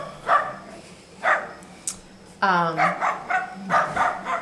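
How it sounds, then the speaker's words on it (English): A dog barks repeatedly nearby in short bursts, mixed with yips and whimpers, while a person talks over it. "Now there's dogs."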